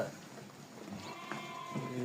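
Lambs bleat a few times in short, wavering cries against a soft background hiss, fairly close by, waiting to be released to nurse from feeding ewes.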